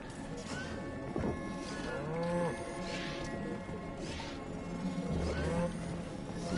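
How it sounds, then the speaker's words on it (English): Cattle mooing in the video game Atomic Heart, several drawn-out lowing calls in sequence over steady game ambience and background noise. "there's another cow here"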